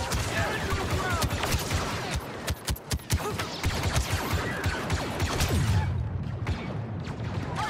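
Blaster fire in a Star Wars Battlefront II campaign battle, rapid loud bursts of shots crackling in dense volleys with whooshes and impacts, thinning out near the end.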